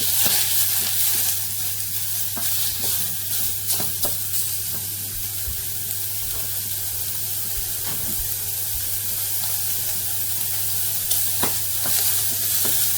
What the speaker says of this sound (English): So all I want to do is cook the bacon through until the bacon's all completely cooked.